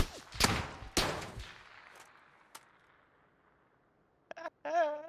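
Two sharp, loud gunshots in PUBG crack close together and echo away, followed by a faint distant pop and a few short bursts of video game sound effects.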